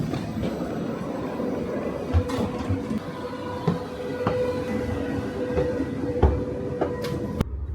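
Train rolling along rails on a four-hour leg of a trip across Germany, a steady low rumble and rattle inside the carriage with occasional clunks and knocks, continuous throughout with no talk.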